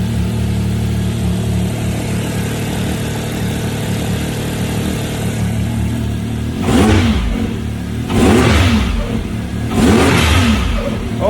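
Can-Am X3 side-by-side engine with a blow off valve installed, idling steadily and then giving three sharp revs near the end, its drive-belt cover removed, loud and close.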